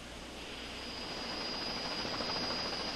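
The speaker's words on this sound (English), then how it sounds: "MetroLife Flight, a critical care helicopter based in Cleveland," A critical care air-ambulance helicopter based in Cleveland, Ohio, its rotor and engine producing a steady, broadband roar that builds slightly and holds at moderate loudness with no voices.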